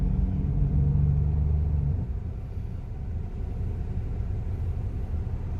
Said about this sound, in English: That is a lot of traffic considering we're supposed to be on quarantine right now.